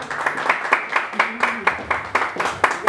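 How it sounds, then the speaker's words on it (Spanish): Rhythmic clapping from an audience at a mariachi birthday performance, sharp even claps at a steady beat, close and fairly loud with voices mixed in. "Y ese aplauso bien bonito,"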